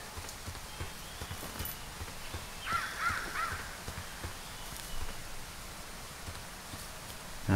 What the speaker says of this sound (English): I can occasionally hear like the squawk of some birds off in the distance.